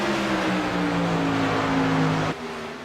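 Silver Crown Series race cars roar past on the front stretch of a Chicago oval, a loud sustained engine howl with falling pitch that drops off abruptly near the end.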